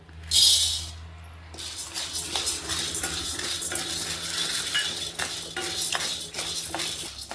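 Roasted gram being dry roasted in a pan, with rattling, scraping and clinking of a utensil against the metal in irregular bursts, close and fairly quiet, no voices.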